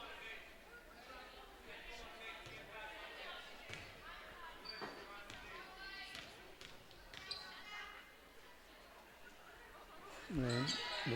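A basketball bounces on a gym floor during a girls' high school game, Dover-Sherborn against Millis: scattered dull thuds under steady crowd chatter and spoken voices.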